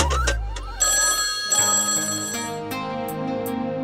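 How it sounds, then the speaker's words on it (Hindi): A telephone ring, electronic and repeated in short bursts, fairly clear, over a faint musical background. "तो ये हमारा फोन है, 2 बार बज के कट हो जाता है।"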